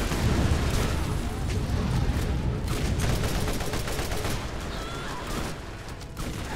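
Dense, continuous battle noise in Borderlands, with grenade blasts rumbling amid rapid gunfire and a constant low roar, loud and close throughout.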